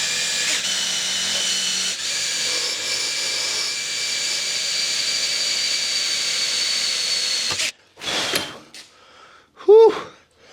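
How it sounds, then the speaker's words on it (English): A power drill bores a hole through stainless diamond plate for a UTV cargo box, a steady high whine held for about seven seconds before stopping, followed by a few short clatters and a brief squeal. "gonna go ahead and drill this first hole"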